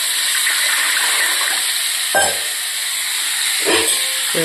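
Water heating in an idli pot gives off a steady, loud steam hiss, broken by two brief low bubbling bursts partway through.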